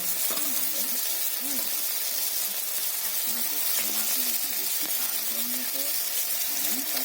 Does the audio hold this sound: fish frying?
yes